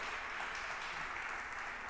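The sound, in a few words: congregation applauding in church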